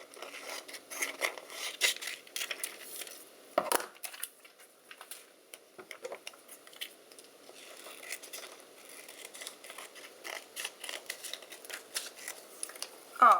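Scissors trimming and cutting apart a vinyl skeleton bone design for a Halloween sweatshirt, made in Cricut Maker crafting: quiet, close snips and crinkling paper-like rustles in irregular bursts, with no talking.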